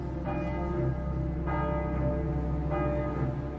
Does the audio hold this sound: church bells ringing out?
yes